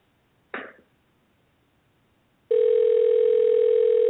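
A telephone line connecting out, with one short rustle or throat-clearing sound, then two seconds of quiet, then a loud, steady, continuous dial tone that runs to the end.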